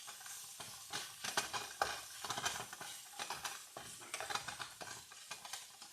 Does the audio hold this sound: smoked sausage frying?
yes